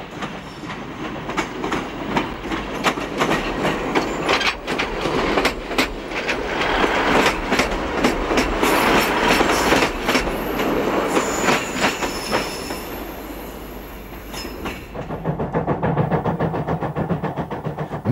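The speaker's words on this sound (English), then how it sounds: "Local services are operating using Class 150 sprinters, the first of the modern generation trains." A Class 150 Sprinter diesel train rumbles past in Derbyshire, England, with rhythmic clickety-clack of wheels over rail joints, growing louder then easing off, with occasional squeals.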